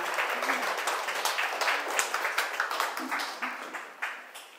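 Audience applause at a concert, opening the second half of an improvised piano performance at an AI art exhibition artist talk. It is a steady wash of many hands clapping, moderately loud, with a few sharper claps near the end.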